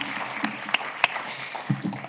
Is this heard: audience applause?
yes